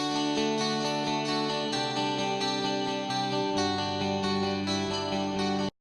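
An electric guitar plays a bass-like intro line with effects and distortion. The dense, sustained tone shifts notes steadily and then cuts off abruptly at the end, with no talk over it.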